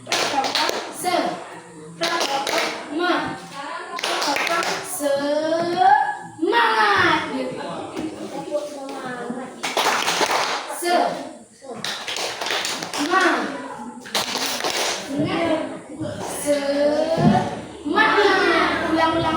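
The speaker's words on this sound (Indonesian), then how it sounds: "Tepuk semangat." A class of children performs a rhythmic spirit clap, with bursts of patterned clapping and tapping mixed with loud, lively children's voices chanting and talking throughout.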